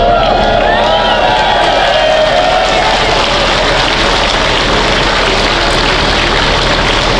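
A large outdoor crowd at a freedom rally roars and cheers loudly and continuously, a dense wash of voices and applause that stays strong throughout, with a speaker's voice partly audible near the start.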